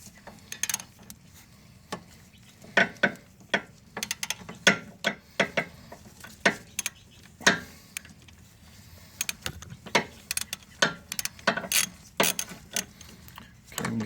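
A ratchet wrench on a swivel loosens a 17 mm bolt on a 2013 Hyundai Sonata 2.4L during an engine and transmission job. It gives bursts of sharp, close clicks in an irregular rhythm, separated by brief pauses.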